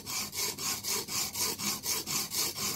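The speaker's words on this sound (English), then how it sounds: "I'm sharpening the heel of the knife, the ricasso" Rhythmic back-and-forth scraping of a knife heel on a Blitz 360 sharpener, about ten even strokes in quick succession, close and clear with no talk.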